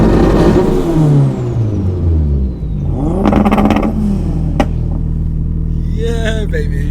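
Tuned sports cars including a 700 hp Skyline, Supra, RX7 and Silvia rev and accelerate off the line at a drag race start, loud close engine sweeps falling then rising in pitch, with voices over them.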